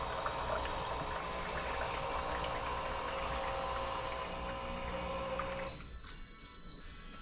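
A machine pumps plain water through its boilers during a descaling rinse cycle, a steady flowing and gurgling hum that thins out near the end, with no talking.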